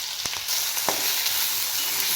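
Cumin, mustard seeds, garlic and coconut frying in hot oil on a stove, a steady bright sizzle with a few crackling pops near the start, close and loud.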